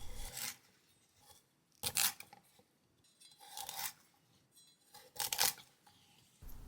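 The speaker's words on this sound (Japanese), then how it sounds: "ごぼうは5センチほどの長さに切って、太いものは縦半分に切ります。" A knife cuts burdock root into short lengths, thicker pieces halved lengthwise, giving four separate crunchy, rasping strokes spaced a second or two apart, close and fairly quiet with near-silence between.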